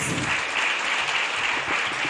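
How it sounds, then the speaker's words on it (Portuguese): A church congregation at a worship service applauds in praise of Jesus, a dense, steady wash of many hands clapping throughout, with no talking. "Vamos dar um aplauso ao Senhor Jesus."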